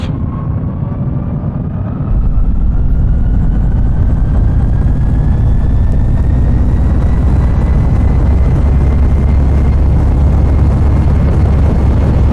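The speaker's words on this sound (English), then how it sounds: "And we have liftoff." Rocket engines of a space capsule roar at liftoff: a loud, continuous low rumble swells in after about two seconds and holds steady, with a faint rising whine riding on top.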